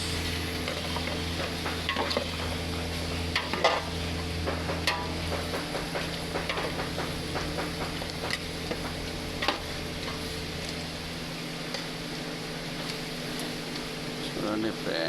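Chicken pieces are stirred in a hot pan of spiced onions while making chicken biryani, giving a soft continuous sizzle with occasional scrapes and taps of the spoon, under a steady fan hum and a voice talking.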